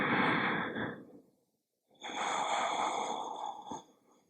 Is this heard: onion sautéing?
no